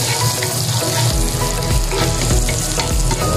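Garlic fries loudly in melted fat on a hot sizzling plate for corn kernels, giving a dense, continuous crackling sizzle with stirring, close and alone.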